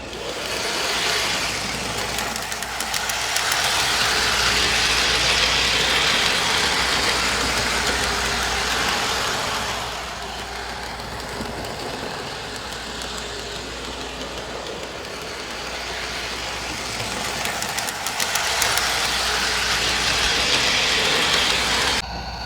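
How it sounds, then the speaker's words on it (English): A Lion Chief starter set model train runs on a track over carpet, giving a steady close rolling rumble with a high metallic whir. The sound swells and eases as the train circles, with no voices. "This is one of our Lion Chief starter set engines, so typical of what you would get in any of your starter sets."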